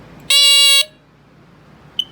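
A home smoke alarm, a Sears early model, gives one loud, piercing half-second buzzing beep close up, followed by a faint click.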